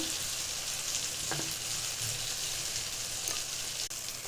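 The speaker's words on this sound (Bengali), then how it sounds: "ভালো করে ভেজে নিচ্ছি" Chicken sizzles in hot oil with tomato paste, salt, turmeric, coriander, cumin and chili powder, a bright steady frying hiss with occasional stirring clinks, close and continuous.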